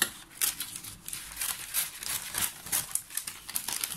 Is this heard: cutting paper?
yes